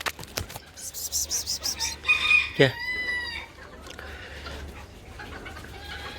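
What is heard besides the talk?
serama rooster Haydar Bey crowing and clucking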